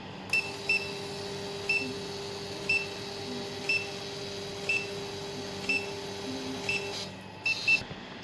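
An electrocardiograph printing its calibration output ticks out short, evenly spaced clicks about once a second over a steady electronic hum, ending in a couple of quicker chirps.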